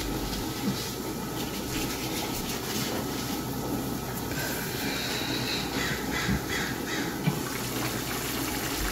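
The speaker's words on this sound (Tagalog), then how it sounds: "Ang ingay ng ibon." A bird calls noisily and repeatedly against a steady outdoor background hum, with faint trickling water.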